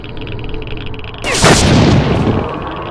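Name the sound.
railgun firing in video game S.T.A.L.K.E.R. Shadow of Chernobyl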